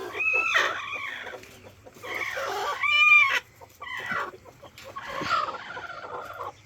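A hen clucks and squawks in bursts with short pauses, close and clear, with faint farmyard background.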